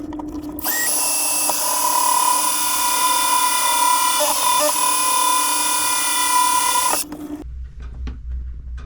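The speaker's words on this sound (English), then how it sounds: "Got the four corners of the access hole drilled out." A power drill bores an access hole through a fiberglass panel aboard a Cornish Crabber 26 sailboat, a loud, steady high whine running about six seconds before cutting off abruptly, with no talking.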